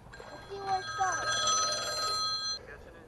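A telephone rings outdoors during a fishing trip, with a steady electronic bell tone for about two seconds while people talk over it.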